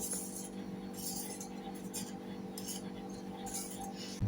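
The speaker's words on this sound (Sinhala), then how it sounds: "whip cream සේරම ටික දමාගෙන මම පරිස්සමට කලවම් කරගන්නවා" A utensil clinks and scrapes against a bowl in repeated strokes as whipped cream is folded in for semifreddo, quiet and close, with a steady hum underneath.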